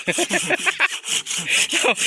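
A neem tree trunk is cut with a saw in steady back-and-forth strokes, each rasping pass loud and close, with rhythmic pulses through the cut.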